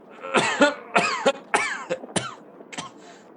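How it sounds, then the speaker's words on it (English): Someone coughs repeatedly in rough, hacking bursts, close and loud, tapering off toward the end. "He began to cough"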